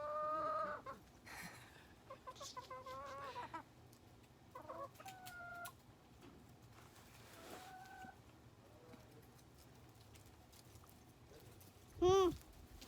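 Chickens cluck and squawk at intervals in a farmyard, with scattered calls and rustling, then one loud close squawk near the end.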